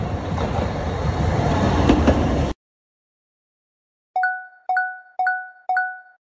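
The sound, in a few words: tram running on rails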